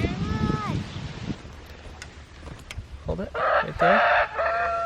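Barred Rock chickens cluck and squawk outdoors at a backyard flock, with rising calls and a crowing-like cry near the end over wind noise, while a person talks nearby.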